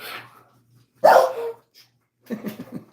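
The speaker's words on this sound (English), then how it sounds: "Dogs." Dogs barking outdoors in short loud bursts, a sharp bark, a pause, then a quick run of yips and barks, with faint talk at the start.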